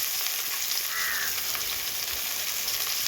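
Onions and curry leaves sizzle steadily in hot oil for a country-chicken gravy, a continuous close frying hiss with no voices.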